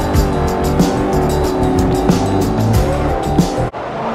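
A Mercedes-Benz SLR McLaren in Forza Motorsport 4 brakes hard on ceramic brakes into a corner, its engine droning loudly with tyre squeal, cutting off abruptly near the end.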